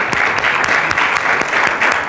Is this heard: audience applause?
yes